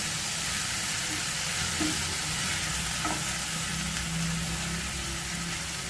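Finely chopped medium onion frying in a pan with garlic paste, giving a steady, faint sizzle and hiss with occasional soft stirring clinks, no talking.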